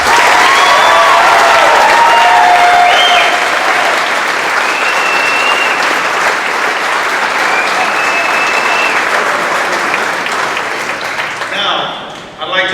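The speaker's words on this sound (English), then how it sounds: "Everyone, please give this year's senior class a round of applause." Sustained applause from a crowd honoring the senior class at a high school baseball awards ceremony, loud and steady for about ten seconds, then thinning out and fading near the end.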